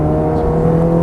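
Steady engine drone of a Ferrari F430 on a racetrack, a sustained loud tone holding under throttle through a short stretch without any talk.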